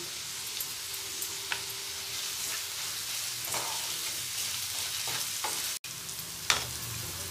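Onions fry with a little salt in a pan while making an egg pepper fry, a soft steady sizzle broken by scattered spatula taps and one sharp knock near the end, no voices.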